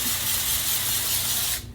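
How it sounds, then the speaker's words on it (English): Makeup setting spray mists onto a face in one steady, loud, close hiss lasting over a second before cutting off abruptly. "All right, so we're gonna spray my face."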